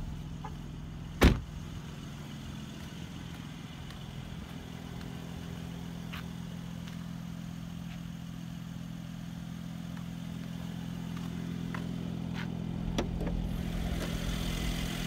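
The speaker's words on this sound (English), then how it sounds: "Under the hood is a 3-liter V6 bi-turbo engine with direct fuel injection." A 2017 Mercedes-AMG SLC43 roadster's 3-liter V6 bi-turbo engine with direct fuel injection idles in a steady, even hum with the hood open, marked by one sharp click early on.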